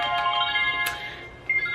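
A toy touchscreen phone for a one-year-old plays its electronic ringtone, a loud, close, bright melodic beeping that continues steadily with a brief sharper chirp partway through.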